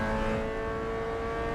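Race car engine in Assetto Corsa EVO holding a steady, tonal drone with layered harmonics, moderately loud and continuous throughout, no talking.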